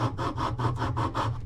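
A strip of sandpaper rubs back and forth over a small handmade diamond painting pen with no power tools, in six or seven steady, even strokes, close and fairly loud.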